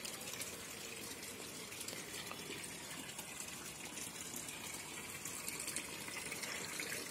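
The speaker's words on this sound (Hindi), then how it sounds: "आप सभी को इसका पानी का साउंड आप सुन रहे होंगे" Water flows steadily into a small terrace garden pond with a continuous, fairly loud gushing rush that stays even throughout, and no voices are heard.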